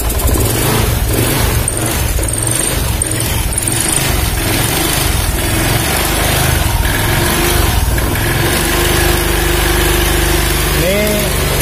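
A fuel-injected motorcycle engine runs with its air filter removed, a loud steady idle with rev changes, while someone talks over it.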